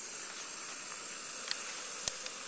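A steady, broad hiss of a Jetboil Flash camping gas stove burner running at close range, with a couple of faint piezo igniter clicks near the end.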